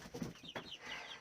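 Chickens cluck softly inside a small brooding shed, a brief, faint burst of fowl calls and rustling.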